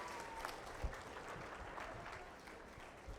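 An audience at a middle school outreach event applauds to welcome Guam's Attorney General Douglas Moylan, a steady, soft wash of clapping lasting a few seconds, faint and somewhat distant.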